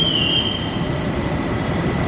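Train wheels squeal in a long, high metallic whine on a sharp curve over the steady rumble of rolling railcars, loud and close.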